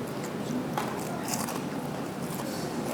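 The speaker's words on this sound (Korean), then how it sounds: "바삭바삭하고 또 안에 깻잎 향도 확실히 나는 것 같아요." Crispy fried perilla-leaf fritters being bitten and chewed up close, a steady run of crunching and crackling with sharp crisp snaps, no talking.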